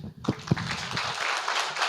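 Audience applause at an academic session on Korean identity and values, starting after a brief gap and holding steady as a dense wash of clapping through the rest, with a few low thumps early on.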